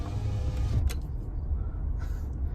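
Truck driving past on a dirt road and kicking up dust, heard from inside a parked vehicle as a steady, loud low engine and tire rumble with a brief whine of power windows rolling up.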